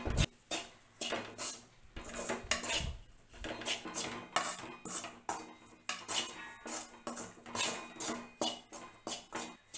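Chana dal and grated coconut are stirred in ghee in a pan for sweet poli filling, with a metal spoon scraping and clinking against the pan in a steady, repeated rhythm, fairly close and without talk.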